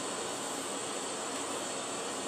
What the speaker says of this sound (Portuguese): nós estamos na cabine de um Boeing, né? De um avião comercial